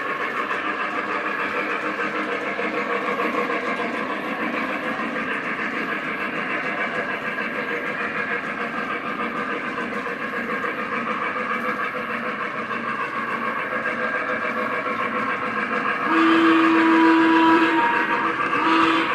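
Steady rumbling clatter of a small model train running along track, continuous and fairly close, with a brief whistle-like tone near the end.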